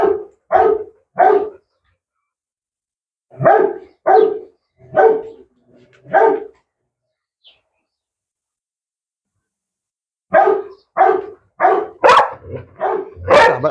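Several dogs bark in short, loud clusters of sharp barks, then fall silent for a few seconds before a more frantic run of barking resumes close by.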